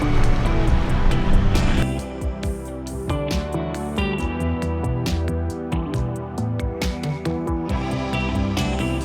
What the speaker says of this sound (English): so far Onion Creek is just pleasant driving through splashes